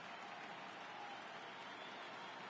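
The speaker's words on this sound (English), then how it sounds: "The crowd is ready to erupt as their guys get set to take the field." Stadium crowd in the MLB The Show 2018 baseball video game before a Boston Red Sox playoff game, a steady faint roar of cheering and applause with no break.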